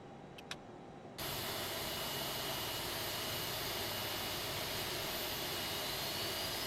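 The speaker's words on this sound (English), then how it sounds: "Alright, we have 2 good engine starts." In a flight simulator, after a quiet moment with a couple of small clicks, an Airbus A330 engine's roar switches on abruptly and holds steady, with a thin whine slowly rising.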